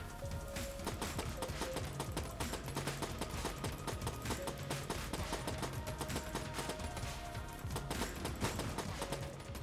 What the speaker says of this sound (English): Why is it shooting three times?